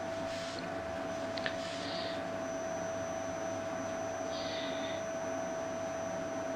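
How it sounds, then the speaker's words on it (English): A vacuum cleaner runs steadily while hoovering a dog, a constant close motor drone with a sharp whine and brief higher hisses as the nozzle moves over the coat, no talking. "keep the hoover well away from his face and any items that you can do any damage to"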